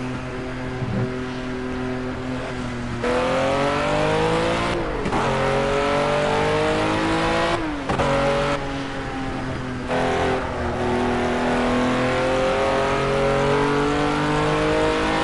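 An AI-driven race car in Project Cars roars steadily and close, its engine note climbing through gears with several sharp shifts and dips, loud and continuous with no talk.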